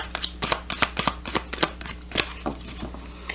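Soul's Journey Oracle cards shuffled by hand, a steady run of quick papery riffles and soft slaps, close and fairly quiet, with no voices.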